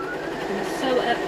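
A sewing machine stitches fabric with a continuous close mechanical whir and rattle that holds steady for the whole stretch.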